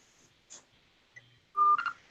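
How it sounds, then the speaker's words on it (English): A cell phone being turned off gives a few faint clicks followed by a brief, louder electronic tone burst, close and alone with no talking. "Let me cut my phone off."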